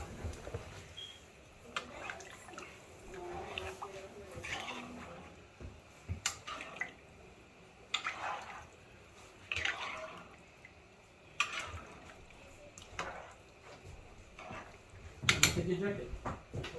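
Rice and pigeon peas get stirred with water in a cooking pot, making repeated wet scraping, sloshing and clinking sounds under ongoing kitchen talk.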